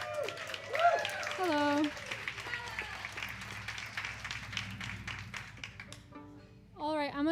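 Applause from a live traditional Irish music fundraiser audience welcoming a fiddle player. Scattered clapping runs steadily under a spoken greeting and other voices, then fades out near the end.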